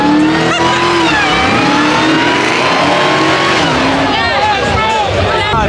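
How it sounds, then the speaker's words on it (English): At a two-step car meet, a car engine revs hard over and over, loud and close, with rising and falling pitch sweeps and possible tire squeal, while spectators shout over the noise. "Rev it, keep rev it."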